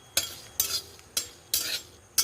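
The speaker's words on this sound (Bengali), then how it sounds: "কিছুটা শুকনো কড়াইতে দিয়েছি একটা লঙ্কা আর পাঁচ ফোড়ন এটা একটু নেড়ে চেড়ে নেব" A utensil scrapes dried red chilli and panch phoron around a dry wok in five quick, separate strokes, each a short, close, gritty rasp with brief pauses between.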